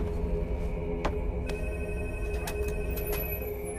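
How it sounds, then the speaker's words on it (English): A telephone rings in the horror video game Call of Cthulhu, a steady electronic ringing with repeated sharp clicks over a low background hum, no voices. "And that would be a phone call."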